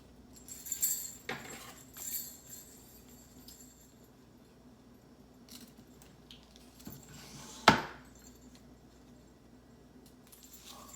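Ribbon being snipped with scissors while crafting a gingerbread recipe sign, a few quiet cuts and handling rustles with one sharp, close snip standing out, no talking.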